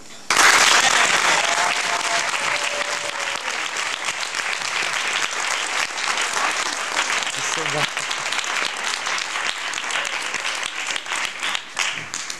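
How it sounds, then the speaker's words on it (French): An audience at a winter theatre festival applauds the troupe from Romania, a sustained burst of clapping that starts suddenly and loudly, then settles into steady applause that continues to the end, with a few voices faintly audible beneath it. "ce serait bien de les applaudir"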